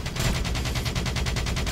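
Dense, rapid automatic gunfire from a Black Ops 3 multiplayer mothership killstreak, loud and continuous with a steady rattling pulse and no voices.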